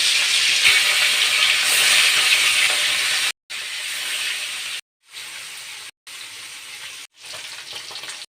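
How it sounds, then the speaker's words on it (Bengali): Rohu fish frying in hot oil in a wok, a loud continuous sizzle broken by a few short silent gaps, with no talking. "তেল গরম হয়েছে এখন আমি মাছ দিয়ে ভেজে নেব"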